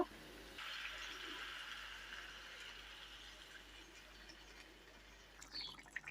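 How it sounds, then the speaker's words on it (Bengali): Hot water being poured into a pan of egg curry, a steady soft rushing pour that runs for several seconds and tapers off, faint and close with no voices. "এবার আমি এটাতে গরম জল দেব"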